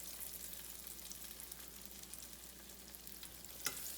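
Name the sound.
pork chops frying in hot oil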